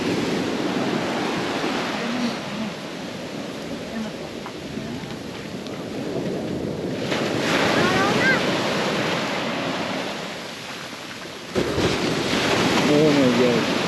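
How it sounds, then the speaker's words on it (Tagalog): Rough sea surf at a beach in Baler, a loud continuous roar of breaking waves and wind buffeting the microphone, with brief voices faintly audible over it. "Nangangalit yung dagat, guys."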